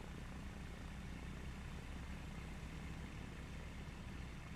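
Aircraft engine in Microsoft Flight Simulator 2024, a steady, even drone with a low rumble, heard continuously and moderately loud from inside the plane during a multiplayer flight over the Scottish Borders and Ireland.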